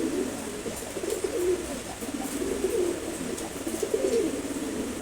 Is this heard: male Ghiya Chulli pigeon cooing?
yes